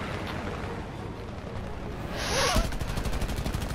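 Aircraft machine guns firing in War Thunder, a steady rapid rattle of shots that swells louder toward the end over continuous engine roar.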